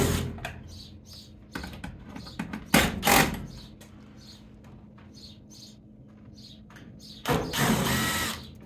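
A power drill or driver whirs in short bursts while removing screws from a Frigidaire Kenmore dryer console, with ratcheting mechanical noises and a longer final spin, close up and without speech.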